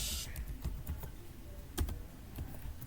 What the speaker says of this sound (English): I want to first type something here